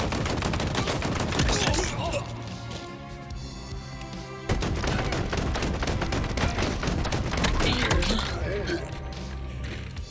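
Rapid bursts of Commando rifle fire in Halo Infinite, dense repeated shots with impacts and explosive thuds in loud continuous volleys, a brief lull partway before firing resumes, with a voice talking over the gunfire.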